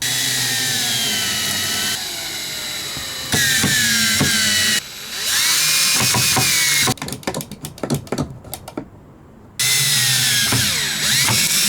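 A power drill bores a hole in a wooden DIY Eurorack case, whining in several steady bursts with short pauses between, close and loud, with a stretch of rapid clicking stop-start triggering in the middle.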